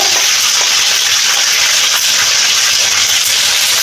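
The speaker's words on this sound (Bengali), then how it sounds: "একটু আদা বাটা দিলাম। এটাকে আমি একটু কষিয়ে নেব।" Ginger paste fries in a pan along with chopped tomato, a loud, steady, close sizzling hiss that continues unbroken throughout.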